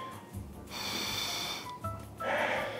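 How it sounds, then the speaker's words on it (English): A deep nasal sniff from someone bringing a glass of red wine up to the nose, a long drawn inhale close to the microphone followed by a second shorter breath. "Deep sniff."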